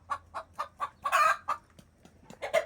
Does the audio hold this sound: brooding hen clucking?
yes